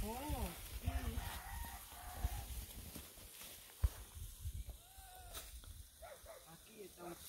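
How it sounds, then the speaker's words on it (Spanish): Chickens cluck and squawk in short agitated bursts as hens fight among themselves, with a rooster crowing among them, on a countryside farm while people talk nearby. "¿Y ahí qué es lo que suena la gallina?"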